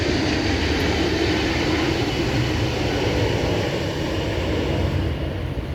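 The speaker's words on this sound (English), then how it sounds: "I'm sure you could hear me despite the plane noise." A steady, loud roar from an airplane passing overhead fills the whole stretch, a continuous broadband engine rumble with no talking over it.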